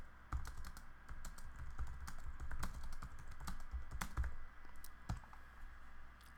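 Fingers type a product description on a computer keyboard, a close, steady patter of key clicks with a few louder taps, heard alone without talk.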